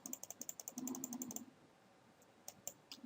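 A computer mouse clicks in a quick, even run of light, close taps, followed by a pause and then a few more scattered clicks.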